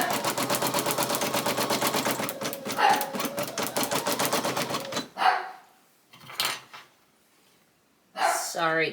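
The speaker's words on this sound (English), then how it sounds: "Sorry, my dog is barking." A dog barks in a rapid, loud burst of repeated yelps close by, then goes quiet, with a few more barks returning near the end.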